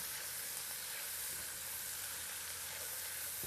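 A pot of seafood jambalaya with parsley cooks down on the stove, giving a steady, even sizzle and hiss throughout with no pauses or voices.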